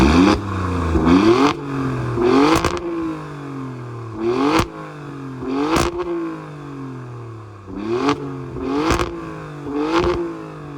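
A 2.9-liter Ferrari-derived V6 in an Alfa Romeo Stelvio Quadrifoglio, exhaling through chrome quad exhaust pipes, revs repeatedly in loud, close blips, each sharp rise falling away, with crackles between bursts.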